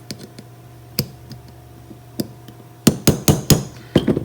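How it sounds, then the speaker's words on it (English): Hammer tapping a 3/32 punch into a pistol's internal chassis, giving sharp metallic taps: a few light, spaced ones, then a quicker cluster of louder strikes, close and alone. "we're going to take our 3/32 and our hammer"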